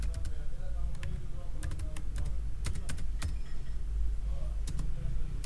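Typing code on a computer keyboard, irregular quick clicks of keys in short bursts at moderate distance over a low steady background hum, with someone speaking now and then.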